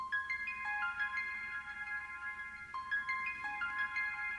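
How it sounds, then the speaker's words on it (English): A lo-fi synth line run through the Serato Hex Floating Woodwinds preset from its space category: soft, sustained woody tones step through a rising and falling melody, steady and fairly quiet, with no voices. "a preset in the space category called Floating Woodwinds,"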